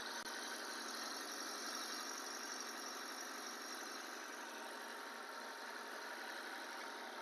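A used petrol car's engine runs steadily in the engine room, a close, even idle hum with constant mechanical whir and no talking.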